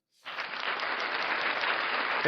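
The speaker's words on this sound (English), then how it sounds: "I need the claps, bud." A burst of applause from a small group at a fantasy football celebration starts abruptly and holds as a dense, even clatter of hands for a couple of seconds, close and loud, with no talking.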